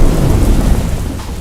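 Torrential monsoon downpour with thunder over flooded city streets in Ahmedabad, Gujarat: a loud, dense, steady roar of heavy rain with deep rumbling underneath, continuous and unbroken throughout.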